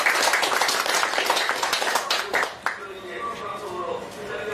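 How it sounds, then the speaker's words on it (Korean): Applause at a Korean panel discussion on public media reform: a room full of people claps loudly and continuously, then the clapping thins out into scattered claps while voices murmur in the background. "큰 박수 주시기 바랍니다"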